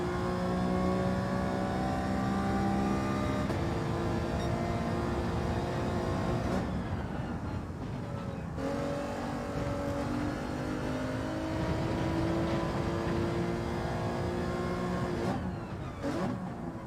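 A race car engine in Gran Turismo 7, revving hard through a corner with the throttle floored early and the wheels spinning, rising and falling in pitch across several gear changes, loud and continuous.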